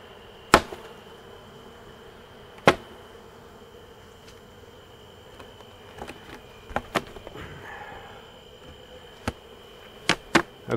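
Honey bees hum in a steady drone while a tiny swarm is combined with a hive, with a few sharp clicks and knocks breaking through close by.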